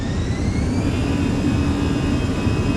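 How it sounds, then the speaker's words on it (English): Airliner jet engines spooling up to takeoff power in a flight simulator game, a steady loud roar with rising whine tones held throughout, no voices. "Takeoff power set."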